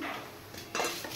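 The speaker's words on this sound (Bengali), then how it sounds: "এবার আমি কড়াইটা নামিয়ে হাঁড়িটা বসিয়ে দেব।" Cooking pot set down on a stove in a home kitchen while making Bengali khichdi, a brief metallic clatter and thump of cookware, with a louder clank near the end and no talking.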